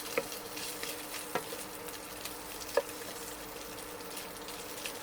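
Food sizzles quietly in a frying pan as it browns to golden, a faint steady crackle with a few soft clicks of stirring and no talk over it.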